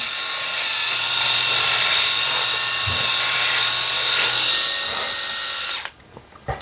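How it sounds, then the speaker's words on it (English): An electric beard trimmer from a VYLTO 7D grooming set buzzes loudly and steadily close to the microphone for several seconds, then switches off, leaving only a few faint handling sounds. "Usually I just go everything with the trimmer like this"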